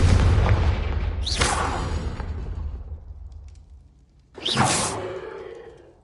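Two loud fire-spell explosions from the video game Hogwarts Legacy, each a whooshing burst followed by a fading rumble, separated by a few seconds of quieter tail.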